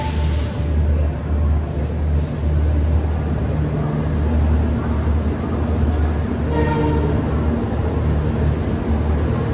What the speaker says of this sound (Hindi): फाइनली हमारी ट्रेन का डिपार्चर विशाखापट्टनम जंक्शन से भी हो रहा है